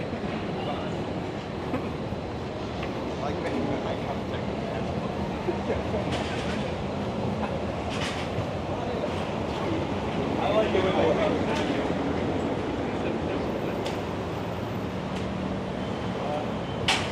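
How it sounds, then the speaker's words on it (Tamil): A metro train rumbles through a downtown Washington station, a steady continuous rolling roar with faint clicks, while people talk nearby. "இது ஒரு மெட்ரோ ஸ்டேஷன் நினைக்கிறேன்."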